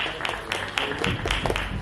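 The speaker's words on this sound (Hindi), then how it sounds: "मेरे मित्र हैं विजय बेनेडिक्ट जी, के लिए जोरदार ताली हो जाए।" An audience at the Akhand Bharat Gaurav Award 2024 ceremony claps for Vijay Benedict, a brief patter of applause from a crowd, fairly even and moderately loud.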